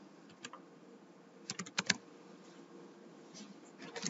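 Keys clack on a computer keyboard in scattered bursts, with a quick flurry of several strokes in the middle and a few more near the end, close and fairly quiet.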